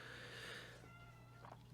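A cat meows once in a drawn-out tone that fades away, quiet and close over a steady low hum.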